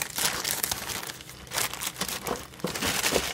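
Packaging crinkles and rustles loudly and continuously up close as a parcel is unpacked, with no talking.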